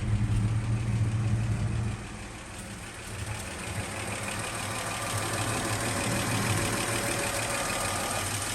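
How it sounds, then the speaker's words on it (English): A 1959 Chevrolet Apache Fleetside pickup's inline-six engine at a steady, low idle with a smooth exhaust hum, loud and close, dropping slightly in level early on and then holding even. "Nice quiet hum out of the exhaust."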